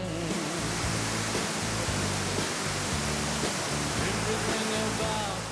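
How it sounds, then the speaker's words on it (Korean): A waterfall on a trekking route near Tetebatu village in Indonesia pours down in a dense, steady, loud roar of rushing water, with a faint voice underneath. "시원하게 쏟아지는 물줄기에 가슴이 뻥 뚫리는데요"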